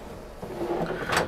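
A wardrobe drawer in an integral motorhome slides open or shut with a soft scraping run, ending in a brief knock, heard close against a faint room hiss.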